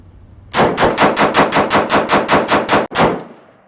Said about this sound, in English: rapid fire sequence, gas setting number 1, and see if we can create a malfunction